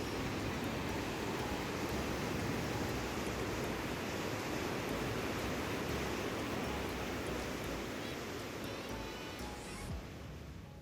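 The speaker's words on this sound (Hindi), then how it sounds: "पानी की पत्थरों से टकराती हुई आवाज़ सुन के हम पूरे ही मंत्रमुग्ध हो जाते थे।" A mountain stream on a Himalayan trek rushes over rocks in a loud, dense, unbroken roar of splashing water, close by and steady throughout.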